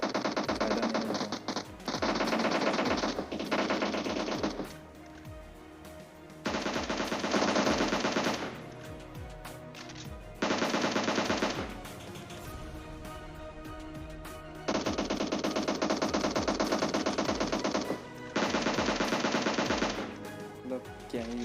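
Repeated bursts of automatic gunfire from the Free Fire video game, several sustained loud volleys separated by short pauses, over constant game background sound with no talking.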